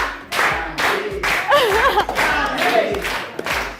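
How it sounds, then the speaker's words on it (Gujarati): A crowd at a game zone in Thaltej, Ahmedabad, during a Janmashtami event shouts and cheers in bursts, with claps and loud whoops rising and falling close by over a busy background. "અરે લોકો ચીયર અપ કરે છે."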